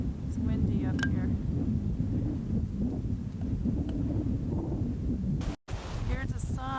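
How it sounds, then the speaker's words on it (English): Strong wind buffets the microphone on a hilltop at a pioneer cemetery, a loud continuous rumble with gusty swells and a brief dropout near the end. "It's windy up here."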